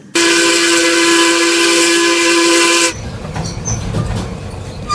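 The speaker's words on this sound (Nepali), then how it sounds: "रेलगाडीले बिस्तारै स्टेशन छाड्यो।" A long, loud steam-style train whistle blows steadily for about three seconds, then gives way to the rumbling and clatter of a train slowly pulling out of a station during the Second World War era.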